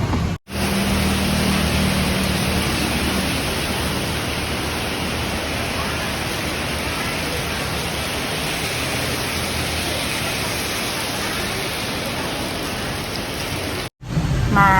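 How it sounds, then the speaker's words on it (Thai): Steady heavy rain pouring down, a dense continuous hiss that stays loud and even throughout, with a brief dropout near the start and end. "มาบอฝนตกแล้ว"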